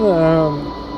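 The horn of a BR 189 electric locomotive in Train Simulator Classic sounds as a single loud tone that falls slightly in pitch and fades within about a second.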